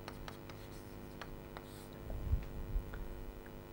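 Writing strokes on a board in a logic lecture, a few short scratchy marks spaced apart, near and moderately loud, over a low room hum with a brief rumble partway through.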